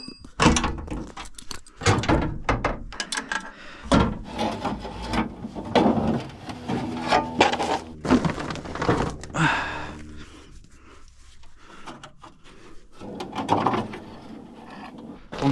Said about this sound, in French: Première étape, démonter le pare-choc.